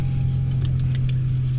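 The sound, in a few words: car engine rumbling after jumpstart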